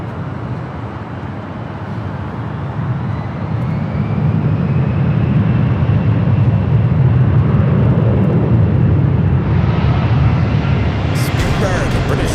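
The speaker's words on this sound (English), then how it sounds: "It's a 747-400ER, going to be taking off on the south side." A Boeing 747-400ER cargo jet rolls for takeoff at LAX, its engine roar building from a broad rumble into a loud, sustained thrust. Traffic noise sits underneath, and a voice talks over it.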